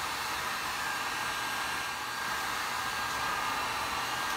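A heat gun blows hot air over 3M Satin Ocean Shimmer vinyl wrap on a Chrysler 300 SRT8 door, a steady close-up airy roar that holds unbroken throughout with no speech.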